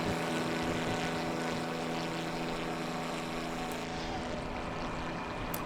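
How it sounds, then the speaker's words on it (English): A steady propeller plane engine drones in a video game, a continuous, even hum with a low buzzing tone that holds at a constant level throughout, with no one talking. "It's kind of really interesting how the plane noises fade out once you actually lift off."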